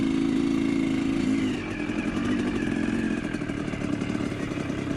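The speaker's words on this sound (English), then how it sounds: "I'm going to try to ride my YZ here without feathering the clutch, just as a beginner would." A Yamaha YZ125 two-stroke dirt bike engine drones loudly and steadily while being ridden, with a slight drop in pitch partway through and no voices.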